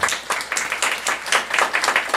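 A church congregation at a Saturday worship service claps together in rhythmic, evenly spaced bursts, loud and close, with steady beats running throughout.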